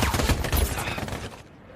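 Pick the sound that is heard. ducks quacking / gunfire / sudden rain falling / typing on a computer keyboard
gunfire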